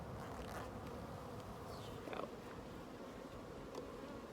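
Honeybees buzz softly around an open hive during an inspection shortly after a nuc install, a faint steady hum with a few brief louder passes of bees flying close.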